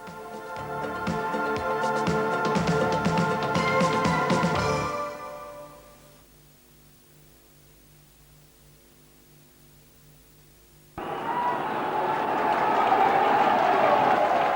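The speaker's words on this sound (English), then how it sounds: "Understandably, a good reaction from the crowd, who've been delighted by this first half black and white dominance." Rugby league crowd applauding as Hull take the field for the second half against Leeds, a dense, loud wash of clapping and cheering that fades away, leaves a quiet gap, then surges back strongly.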